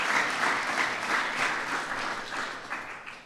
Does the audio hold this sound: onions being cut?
no